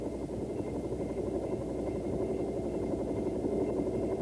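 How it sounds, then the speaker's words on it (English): A Bell AH-1 helicopter lifts off into a hover, its turbine and rotor making a steady, even drone at moderate distance, with no talk. "As the helicopter breaks ground, minor corrections with the cyclic are required for a stabilized vertical ascent"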